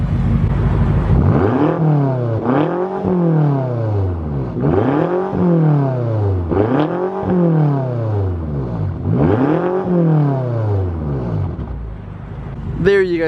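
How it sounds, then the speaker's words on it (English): A BMW F10 M5 Competition with a Turner Motorsports axle-back exhaust blips its engine in five or six quick, evenly spaced revs, each rising and falling back to idle, loud and close with no talking. "let's go ahead and give you guys a few little revs"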